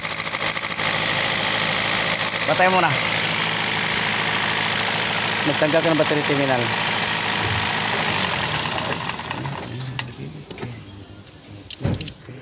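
A Toyota Vios engine misfires at idle with an uneven, stumbling rumble from a cracked spark plug while someone talks over it; the engine then dies down near the end.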